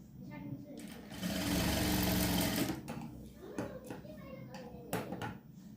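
A sewing machine runs a steady double stitch on a blouse for about a second and a half. Its motor whirs loudly, then stops. Brief clicks and light handling follow, and a voice is faint in the background.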